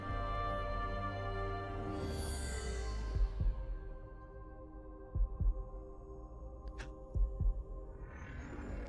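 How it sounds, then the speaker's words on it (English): Heartbeat sound effect from the video game Kingdom Hearts 3, deep low thumps arriving in spaced double beats against a droning musical hum, with a descending sweep early on. "Heartbeat sound effects."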